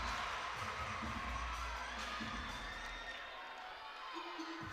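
Large crowd cheering and shouting at a college gymnastics meet on senior night, a loud continuous roar of many voices with whoops and children's shouts, strongest at the start and holding steady throughout.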